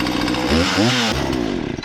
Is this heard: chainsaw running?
yes